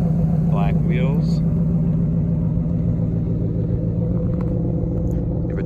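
A 2011 Ford F-150 Raptor with a 6.2-litre V8 idles steadily nearby, a deep continuous rumble throughout with a brief voice over it early on.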